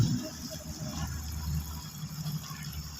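Water rushes and gurgles through a pipe with a low, steady rumbling flow, fairly quiet.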